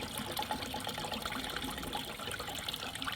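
Fresh fluid draining from a car into a catch container, a continuous trickling, splashing flow of liquid close by, steady and unbroken with no talking.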